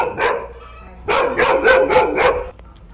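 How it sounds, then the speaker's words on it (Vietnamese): A dog at a countryside garden villa barks repeatedly, one single bark followed by a rapid run of four or five loud, close barks, with no talk over it. "con chó nó làm phiền quá"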